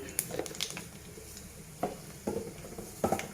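Cumin seeds sizzling in hot oil for tempering, a quiet steady sizzle broken by scattered spatter bursts and scraping stir sounds.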